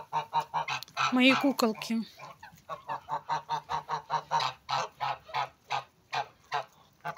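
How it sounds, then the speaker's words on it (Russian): A group of female Muscovy ducks give rapid rhythmic honking calls close by, a steady run of short repeated bursts, with someone speaking briefly near the start. "Вот мои девочки, индоутки."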